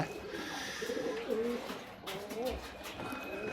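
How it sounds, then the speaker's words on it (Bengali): Fancy vegetable-coloured Getibaj set pigeons cooing nearby, with a few soft repeated coos over quiet background rustle and faint birdsong. "এক দুটো সবজি কবুতর দেখাচ্ছি আপনাদেরকে"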